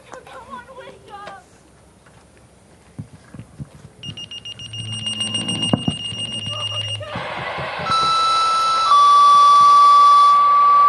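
Fort Jennings Fire Department dispatch alarm tones sound loudly, with beeping and warbling pulses building into long, steady piercing tones that hold to the end, after brief background voices at the start.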